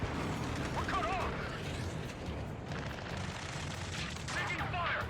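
Sustained gunfire in the video game Ace Combat 7, with dense rattling bursts over a steady roar of battle noise, loud and continuous throughout, with voices shouting in the mix.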